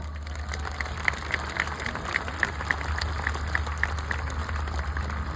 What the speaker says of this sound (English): May I request a thunderous round of applause for the incredible people of our Reliance Parivar.